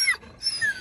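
A sled dog gives short whines and yips outdoors in snow, two brief high calls close by with a little gap between them.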